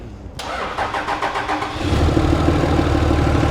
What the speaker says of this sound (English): give her a crank